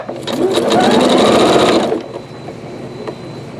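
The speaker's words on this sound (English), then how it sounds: "I'm going to hold the tie off button and it's going to shut itself. It's going to scissor cut the thread." Janome Skyline S5 sewing machine stitching in a rapid, even mechanical hum for about two seconds, then stopping with a soft click as the automatic scissor trims the thread, close up and loud.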